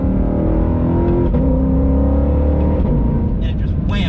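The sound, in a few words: Ford Mustang GTD engine accelerating through fast gear shifts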